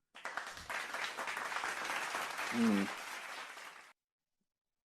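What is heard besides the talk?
audience applause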